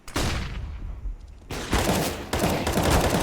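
Rapid gunfire from a Counter-Strike match at an ESEA Main playoff game: a dense burst of shots, a brief lull, then heavy sustained firing close and loud until the end.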